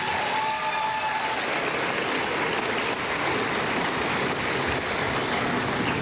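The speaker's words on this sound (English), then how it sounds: "round of applause for them too" Sustained audience applause fills a university event announcing a new men's basketball coach, steady and dense throughout with no speech over it.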